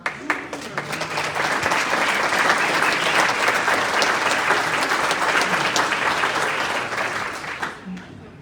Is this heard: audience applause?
yes